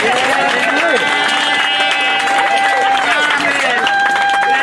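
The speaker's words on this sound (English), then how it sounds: "let's give the family a round of applause" A crowd at a street renaming ceremony for Captain Robert Slaughter in East Orange applauds the family, dense steady clapping and cheering mixed with crowd noise and a voice carrying over the top throughout.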